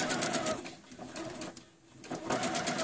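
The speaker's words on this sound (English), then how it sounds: "And I'm going to sew this down." A close sewing machine stitches twill tape onto a happi coat in quick rattling bursts, pausing briefly midway before resuming its fast, even chatter.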